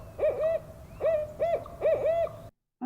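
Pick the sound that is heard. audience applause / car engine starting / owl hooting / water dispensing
owl hooting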